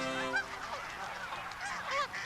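Several Canada geese honking repeatedly as they land at Westchester Lagoon in Anchorage, Alaska, overlapping calls at moderate distance over a steady outdoor background, no talking.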